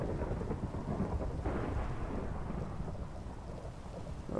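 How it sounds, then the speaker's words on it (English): In Minecraft, rain pours down in a steady wash while deep rolling thunder rumbles underneath, loud and continuous with no voices. "Look at the animation of the rain."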